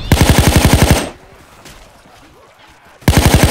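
Rapid automatic gunfire in Left 4 Dead 2 comes in two loud, close bursts of fast shots, separated by a quieter stretch of muffled background noise.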